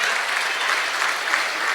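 Students break into steady, dense applause for a teacher being honoured at a gathering, the clapping loud and continuous without pause.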